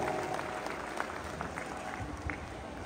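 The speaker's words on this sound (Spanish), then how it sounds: "Fuertes aplausos." Applause from the crowd at the inauguration of a roofed structure in Rastrojo, Copala, a fairly faint, diffuse patter of hands heard from a distance, steady and unbroken.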